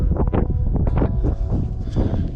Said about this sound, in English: It's windy at the top.